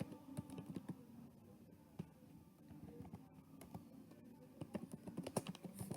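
Keys tapped on a computer keyboard while filling out a simple web form, a quiet, irregular run of light clicks with short pauses, close and alone.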